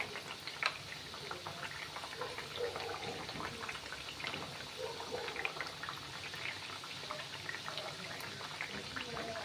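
Rice flour thattai deep-frying in oil over a medium flame, a steady bubbling sizzle with scattered crackles and pops running evenly throughout, close and alone without any talking.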